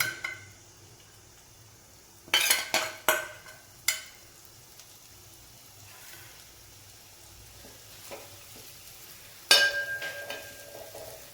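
Crushed fennel, black pepper, garlic, green chilli and ginger frying in two teaspoons of coconut oil for a Kerala kadala masala, a soft steady sizzle broken by a few sharp bursts of spattering and clinks, with no talk.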